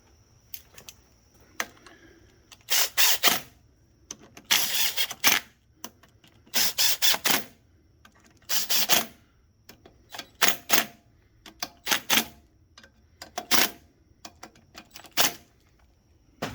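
Bolts are tightened on the flywheel side of a Kohler Command Pro 20HP engine, with repeated sharp ratcheting clicks coming in short rhythmic bursts separated by brief pauses, close and fairly loud.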